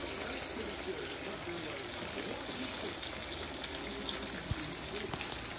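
Antifreeze drains steadily from a 305 small-block Chevy engine being torn down, a continuous close trickle and splash of liquid with no clear break.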